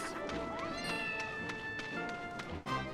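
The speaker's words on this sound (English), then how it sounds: "And clearly meowing." A cat-like monster in the Dragon Quest Monsters video game gives a drawn-out meow, with game sound effects and soft thuds around it.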